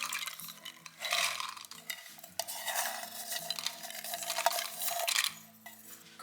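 Soaked cowpeas and their soaking water tipped into a pressure cooker, giving steady clattering and pouring with scraping metal knocks that swell and fade, no talk.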